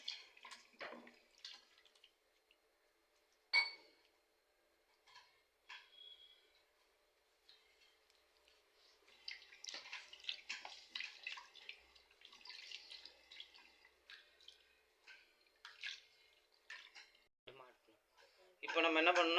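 Water is poured from a vessel into a pot of mutton for cooking, coming in intermittent splashing bursts with brief pauses between them, and a thicker pour near the end.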